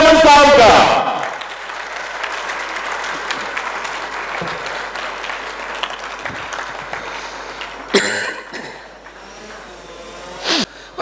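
A crowd at a lecture gathering in Bhakkar applauds to welcome the chief guest, Shaykh Atif Ahmed; a loud burst of clapping opens, then settles into steady sustained applause with a few sharper spikes near the end.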